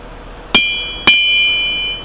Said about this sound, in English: Just hammer over the horn of the anvil.